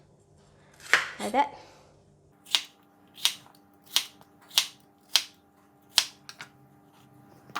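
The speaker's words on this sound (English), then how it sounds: "After we cut the bitter gourd," A knife chops through bitter gourd on a board, cutting it into roughly square-inch pieces: a steady series of about eight crisp, close taps, following a few words from a woman.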